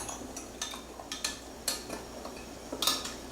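A spoon clinks against the sides of a bowl in a quick series of light, irregular taps while stirring sugar and a generous tablespoon of instant yeast into warm water for pizza dough; close and fairly quiet, with no voices.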